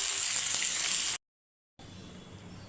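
Fish heads frying in hot oil in a kadai, a steady close sizzle and crackle that cuts out abruptly, then returns quieter and thinner after a short silence as the pieces are lifted out.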